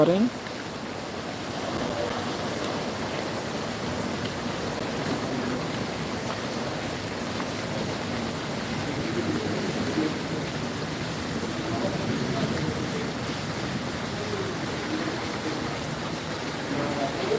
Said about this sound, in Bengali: মোটামুটি অনেক ভালোই বৃষ্টি হচ্ছে